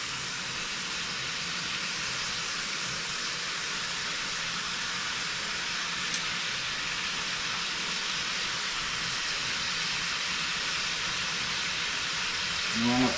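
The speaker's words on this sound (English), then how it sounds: "Now they're going to sizzle because of the marinade." Marinated oxtails sizzle steadily in a pan for Jamaican oxtails, a dense, bright, even hiss that stays close and constant throughout, with a brief clatter near the end and no talk.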